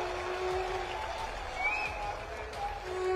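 Applause from a crowd at an Aam Aadmi Party rally with Punjab CM Bhagwant Mann, a steady, moderately loud wash of clapping lasting a few seconds, with a public-address tone and murmuring mixed in.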